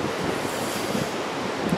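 Strong wind buffets the microphone outdoors beside a river, a steady broadband roar with gusty surges and rumbling low end, loud and continuous with no talking.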